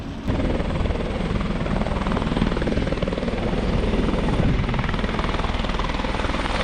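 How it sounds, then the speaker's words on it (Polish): A helicopter takes off near a hotel among modern buildings, its rotor and engine giving a loud, steady roar that fills the whole stretch without letup. "O, tak wygląda start helikoptera."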